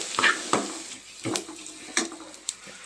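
Close hissing and sizzling as hot tempering is poured into pepper rasam, broken by several sharp metallic clinks of a utensil against the pot.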